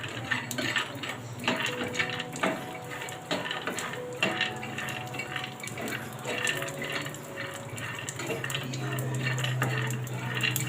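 Peanuts lightly roasting in a pan, stirred continuously, giving a busy, close rattle and clatter of nuts and utensil against metal for about ten seconds, with no talking.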